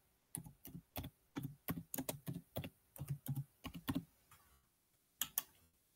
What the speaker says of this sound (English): start typing your school's name